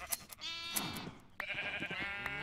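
Minecraft sheep bleating in a farm area, two drawn-out, quavering bleats in quick succession, close and clear with no talking.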